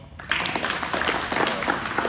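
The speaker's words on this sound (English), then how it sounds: "Give yourself a round of applause." Audience applause for the fathers at a Juneteenth weekend gathering, a brief burst of clapping from a moderate-sized crowd heard at a distance.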